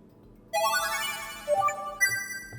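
An electronic ringtone from a police phone in the video game 12Riven, a sustained bright tonal ring with stacked harmonics that starts half a second in and holds steady with small accent bumps, heard alone without speech.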